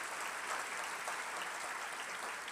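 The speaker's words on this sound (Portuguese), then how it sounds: "Pode dar uma salva de palmas" A church congregation gives a round of applause, dense and steady clapping filling the whole short stretch at an even level with no voices over it.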